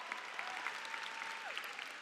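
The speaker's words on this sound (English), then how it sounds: "Could y'all give my boss a big round of applause?" An audience at a high school graduation ceremony applauds, a faint, distant patter of clapping that holds steady for a couple of seconds.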